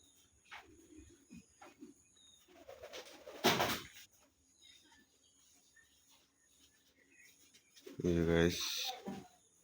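A pigeon eating soil outdoors gives faint, low cooing amid chirping crickets, with someone talking loudly in short bursts.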